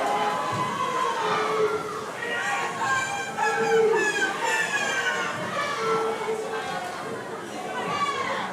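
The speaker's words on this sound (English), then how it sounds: "camera's getting the shake from all the cheering upstairs" A crowd cheers and shouts from the stands at a swim meet, a steady roar of many voices with rising yells, heard under close talking.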